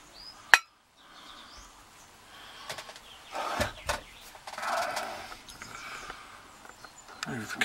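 A metal padlock being worked loose and removed from a bench vise: a sharp metallic clink, then scraping, knocking and rattling of metal against metal at close range, with no talking.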